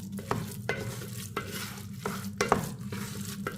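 A spoon stirs sautéed ingredients into black urad dal rice, with repeated scraping strokes against the vessel over a soft background crackle, close and steady.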